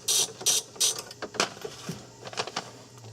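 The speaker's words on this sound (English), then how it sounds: "let me just go ahead and let's start taking these nuts off." A ratchet wrench loosens a 10 mm nut on a Volkswagen Jetta relay center, giving several close bursts of sharp clicking pawl ratcheting with short pauses between strokes.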